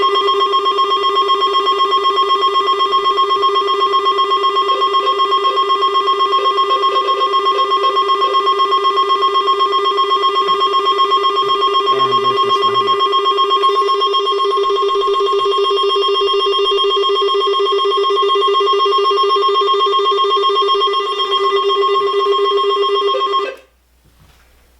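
AlertWorks EAR-10WH alert device ringing like a telephone bell, a loud, continuous electronic ring that holds steady for about 23 seconds before cutting off abruptly.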